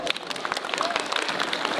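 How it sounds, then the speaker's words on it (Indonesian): A crowd claps for progressive scholarship recipients at a school scholarship launch at MTs Persis 3 Pameungpeuk: dense, steady applause lasting the whole moment, close and fairly loud, with voices mixed in. "Sekali lagi tepuk tangan dong."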